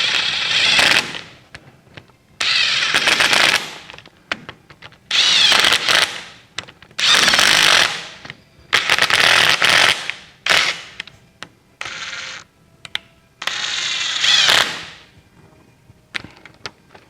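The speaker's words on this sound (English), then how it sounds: "I air hammer them in?" Loud bursts of rapid pneumatic hammering, about eight separate runs of a second or so each, separated by short pauses, close up and with no talking, as an air hammer drives wheel studs into a 1948 Willys CJ-2A Jeep's disc brake hub.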